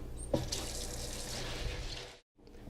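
Tap water runs steadily into a sink while baby spinach salad greens are washed, a close continuous splashing that stops abruptly, then resumes more quietly.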